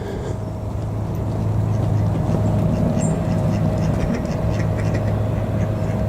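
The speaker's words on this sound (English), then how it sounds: "All sorts of wee ducks in there, mallard, moorhen, probably coot." Ducks quack faintly and sporadically on a pond, half-buried under a steady low rumble of distant traffic, at Belfast Waterworks park, with mallards, moorhens and coots.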